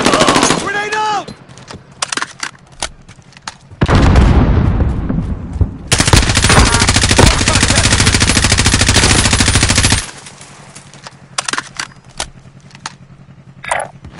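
Grenade blast and gunfire in Call of Duty Warzone: a heavy roaring burst midway into sustained rapid automatic fire lasting several seconds, loud and close, with scattered shots and a voice heard before and after.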